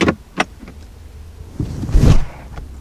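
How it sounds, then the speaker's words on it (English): Glove box of a 2019 Ford Mustang GT swinging open on its damper: a soft click near the start, then a smooth, muffled sliding motion that rises toward the end, close and moderately loud with no talk. "Glove box is also decent sized and dampened."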